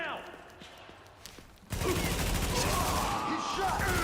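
Gunfire in the video game The Division, a quiet stretch giving way to a loud, sustained burst of rapid shots that continues to the end, with voices talking over it.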